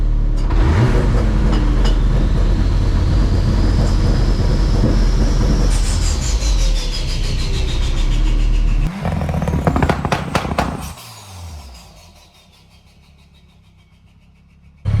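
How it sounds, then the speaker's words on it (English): A 1.8T-swapped MR2 engine with anti-lag takes a throttle blip, a loud close roar and crackle that holds for several seconds, then drops away to a quieter idle before a final burst at the end. "Let's see if it actually builds any boost on the anti-lag just by giving it a little blip like that"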